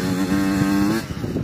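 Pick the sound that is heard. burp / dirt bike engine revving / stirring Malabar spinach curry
dirt bike engine revving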